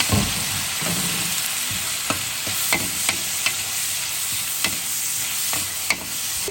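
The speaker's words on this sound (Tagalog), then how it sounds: "Ayan po guys, maglalagay ko ako ng kamatis." Chopped tomatoes and ginger sizzle in a hot pan with a steady frying hiss, while a utensil scrapes and taps the pan in regular stirring strokes close by.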